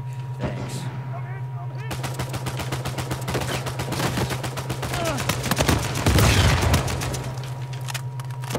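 Sustained rapid gunfire from Uncharted 4 multiplayer, dense automatic bursts over a steady hum, with shouting voices near the start and a heavier swell of shots toward the end.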